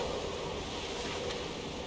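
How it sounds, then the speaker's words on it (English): Steady wind rushes across an open landscape in the video game Sable, a constant broadband roar at moderate level with no voices. "It's very windy."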